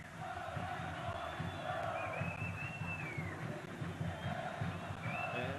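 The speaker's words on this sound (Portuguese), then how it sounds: "É o grito do torcedor do Vasco, é a festa do futebol brasileiro." Vasco supporters chant in a packed stadium during a 1998 Libertadores round-of-16 match against Cruzeiro, a steady rhythmic mass chant with whistles rising over it, distant and continuous throughout.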